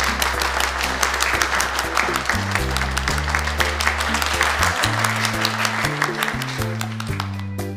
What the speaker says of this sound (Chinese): 接下来我们就再一次把掌声送给宋晓峰跟二丫。